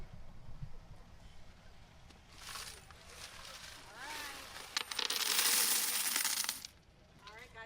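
Coins clatter and jingle into a charity collection container in a busy cascading pour, with voices chatting in the background.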